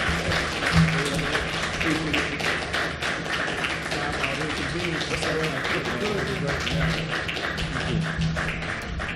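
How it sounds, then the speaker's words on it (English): An audience at a Nation of Islam gathering welcomes a speaker onto the stage with steady, dense clapping that carries on throughout, with voices murmuring underneath. "Bring him on with a round of applause."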